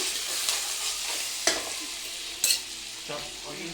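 Cumin seeds and curry leaves fry in hot oil for jeera rice, giving a steady broadband sizzle with a few sharp crackles and pops of stirring against the pan, no talk.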